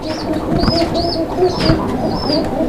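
Female fancy pigeon, about to lay eggs, cooing in a loft, repeated soft coos in a steady rhythm close by, with other birds and low background noise.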